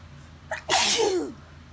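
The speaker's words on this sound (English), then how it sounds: "I feel like I have to sneeze." A single loud sneeze, preceded by a short sharp inhale, then quiet.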